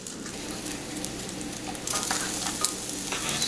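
Onion sizzling in oil on a Blackstone griddle makes a continuous crackling hiss that grows a little louder partway through, close up and with no one speaking.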